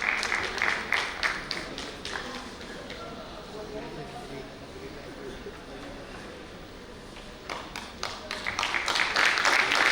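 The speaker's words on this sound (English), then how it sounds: "Let's also have a round of applause for Mr. Rakesh Kumar" Audience applause for a panel of mountaineers and entrepreneurs at a TiE Chandigarh event, clapping strongest at the start and swelling again toward the end, with a softer, thinner stretch in between.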